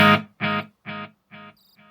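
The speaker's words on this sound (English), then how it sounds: "Analog echo." An electric guitar through a JBL practice amp set to an analog echo: one struck note followed by four repeats, evenly spaced, each softer and duller than the last, close and alone.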